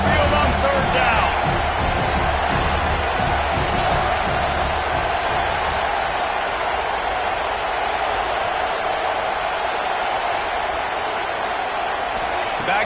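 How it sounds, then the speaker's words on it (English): Roaring Alabama Crimson Tide home crowd at a college football stadium on third down, a dense, steady wall of noise that stays loud from start to finish with no clear breaks. "The Tide crowd rolling noise down onto Saban Field on 3rd down"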